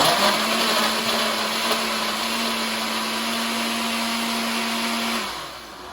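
A blender purees Truly with pieces of doughnut and croissant, running as a steady, loud whir for about five seconds before cutting off and winding down.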